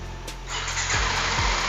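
A 2017 Kawasaki Ninja 250 motorcycle engine cranks and fires up. A brief starter whirr leads into a rising, steady engine roar that stays loud to the end.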